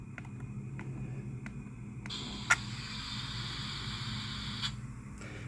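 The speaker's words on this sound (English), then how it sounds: "that's the sound of the air bleed off" Air bleeding off from a model railroad car, a soft steady hiss of rushing air that begins midway and continues to the end, following a few faint ticks and a sharp click, quiet and close.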